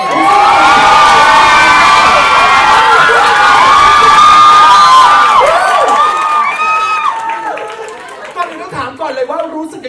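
A large crowd of fans at a Kim Soo-hyun Asia tour event cheers and screams loudly, high-pitched shrieks and whoops rising together, then fading into scattered calls and chatter.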